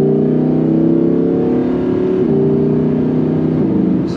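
Audi R8 engine responding to throttle while driving, a loud continuous drone that climbs gradually in pitch, heard from close by with no voices.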